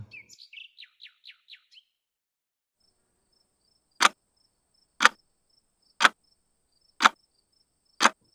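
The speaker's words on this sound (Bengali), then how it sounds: "চারিদিকে ঝিঝি পোকা ডাকছে" A quick run of high chirps opens, then after a pause five sharp cricket chirps sound one second apart against a silent night background.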